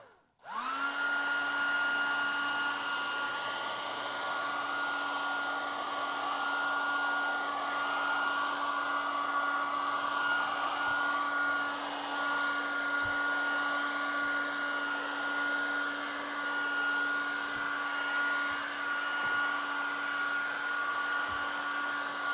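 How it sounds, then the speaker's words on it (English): A hair dryer blows steadily on window insulation film, a loud, even whine with a constant pitch that starts abruptly and runs unbroken without any talk. "in a circular motion, move across the window, applying the heat as evenly as possible"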